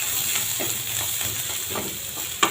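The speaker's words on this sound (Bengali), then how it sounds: "এখন আবারও একটু নাড়তে হবে।" Onion and chopped garlic frying in mustard oil in a wok, giving a continuous soft sizzle with scraping stirring strokes and a sharp clink near the end.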